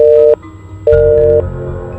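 Busy signal from a phone on speakerphone, a call that won't connect: two steady tone bursts separated by a short gap, loud and near, with room noise behind.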